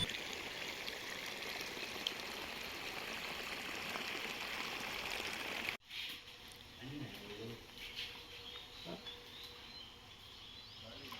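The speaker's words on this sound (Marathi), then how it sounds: "इथे पाणी सोडलं आहे विहिरीचा." Water pumped from a village well in Konkan pours out along a footpath beside a house, a steady loud rushing stream that cuts off abruptly halfway through, leaving quieter outdoor sounds.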